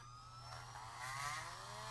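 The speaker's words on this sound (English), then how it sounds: "what you want to do is we're going to go ahead and drill out" A small power drill bores out a chewed-up plastic toy part, a steady, faint whine running continuously with a slight rise in pitch partway through.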